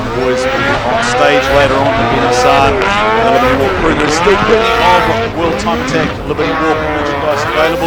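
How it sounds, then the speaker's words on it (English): An LB-Racing four-rotor rotary S15 Silvia screams through a drift demo run in Sydney, Australia, its engine revving and wailing continuously in the background while an announcer talks loudly over it. "listen to the sounds of the quad rotor screaming"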